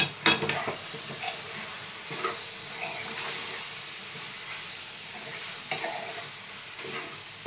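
Kasuri methi is stirred into mutton curry frying in oil, with a spoon scraping and clinking against the pot over a soft, steady sizzle and a few sharper knocks.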